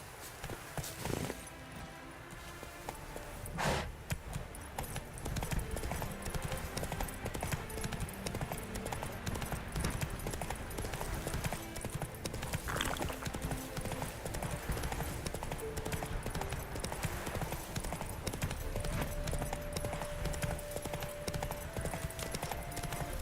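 Roach, the horse in the video game The Witcher 3, galloping: a continuous, rhythmic drumming of hooves held for a long stretch beneath a busy game background, with a faint tone rising near the end.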